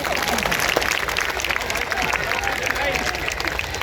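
Crowd applause at a political speech by the Delhi chief minister: dense, continuous clapping mixed with crowd noise, loud and close throughout the short burst.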